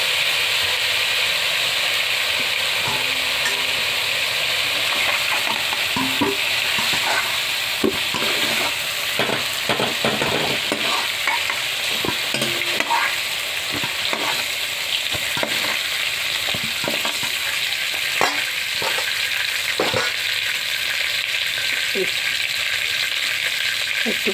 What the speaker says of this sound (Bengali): ভাজা হয়ে গেছে, এখন নামিয়ে নেবো।